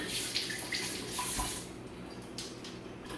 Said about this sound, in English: I'm going to wash off our produce.